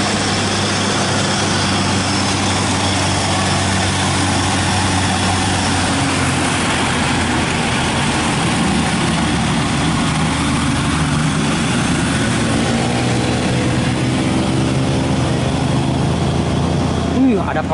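A Primajasa bus engine labours steadily up a hill, a continuous loud drone with a trailer truck close by, under people talking throughout.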